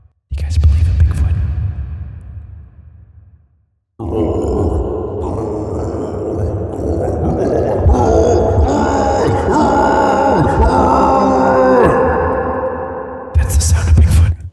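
A man imitates Bigfoot with deep, loud, drawn-out grunts, growls and howls at a Bigfoot convention, one long guttural run followed by a brief rougher burst at the end.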